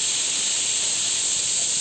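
A pressure cooker of mutton nombu kanji vents steam in a continuous loud hiss close by, a steady whistle-like release with no talk over it.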